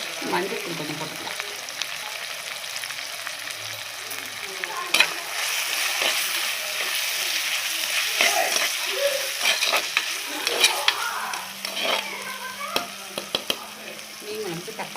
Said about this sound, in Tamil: மீன் குழம்பு தக்காளி நல்லா வதங்கட்டும்.